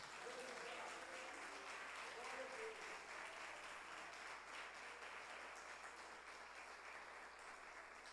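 A church congregation gives sustained, dense applause throughout, steady and loud, with voices mixed faintly into the crowd noise.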